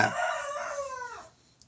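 A rooster crows once, a loud drawn-out call that falls away near the end, heard alone with no talking.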